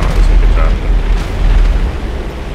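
Heavy rumbling blasts as bombs from WW2 aircraft explode in GTA 5, a deep continuous boom that swells and rolls, with a voice briefly heard over it.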